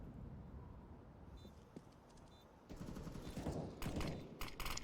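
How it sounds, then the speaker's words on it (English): Gunfire from the Counter-Strike video game during a bomb-site retake in an esports match, faint clicks early and then bursts of rapid shots building toward the end. "Bjor, another whiffed shot on Marshmallow"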